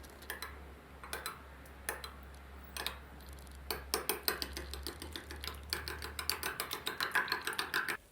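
Egg mixture with diced tofu, ham and chopped scallion is stirred briskly in a bowl, a utensil clicking against the side in a steady ticking rhythm that starts sparse and grows faster and denser, close and fairly quiet.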